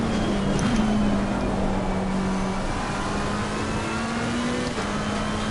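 McLaren race car engine in Assetto Corsa Competizione at Brands Hatch, a steady droning hum holding near one pitch with slight wavering, continuous and fairly loud without any talk.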